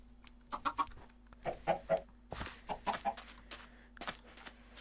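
Chickens in the video game Minecraft cluck in short bursts of two or three calls, repeating several times at a moderate level with a faint steady hum underneath and no talking.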